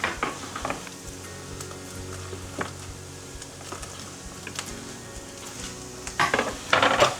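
Sausage pieces fry in a pan as part of the browning base for a sausage soup, giving a steady close sizzle with light stirring and a few utensil clinks, growing busier near the end, with no talking.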